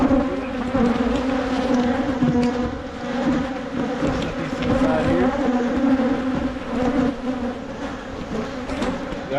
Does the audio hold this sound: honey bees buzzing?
yes